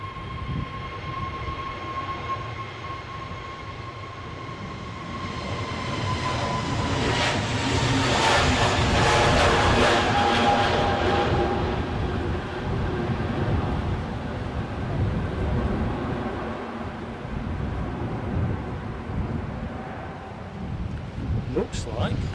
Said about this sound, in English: easyJet on the roll first.